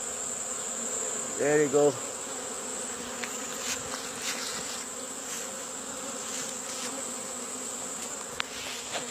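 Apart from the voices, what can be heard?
honeybees buzzing around hive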